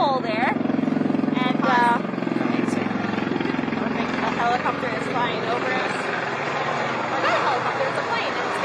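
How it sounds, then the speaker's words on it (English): A helicopter flying overhead at an outdoor aquarium event, a steady rotor drone heard under nearby talking and crowd chatter throughout. "A helicopter is flying over us."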